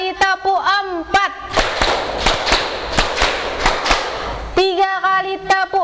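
A group of people claps in time during a clap-counting game, a run of sharp, evenly spaced hand claps between short stretches of a loud voice calling out the counts.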